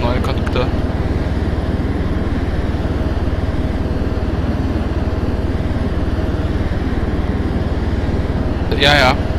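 Steady rotor and turbine drone of a helicopter in a German-language military video game, constant and loud throughout, with brief radio-style voices near the start and a burst of chatter at the end.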